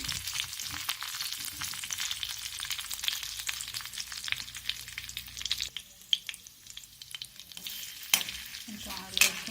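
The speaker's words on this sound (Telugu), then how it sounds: "ఆనియన్స్ వేసుకొని ఫ్రై చేసుకుంటాం కదా" Onions frying in oil in a pan for paneer butter masala, a close, steady crackling sizzle with scraping stirs and a few sharp clinks near the end.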